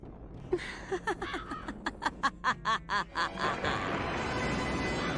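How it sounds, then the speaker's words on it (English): Crows cawing in a video game, a rapid series of about a dozen harsh, evenly spaced calls building in loudness, then giving way to a softer hiss. "The sign is listening for the calling of crows."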